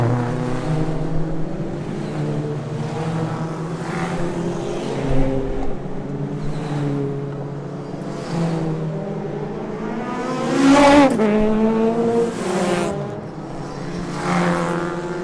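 Legends race cars run in a pack behind a BMW M3 Competition safety car at a circuit, engines droning and revving loudly with gear-change swoops and cars sweeping past close by.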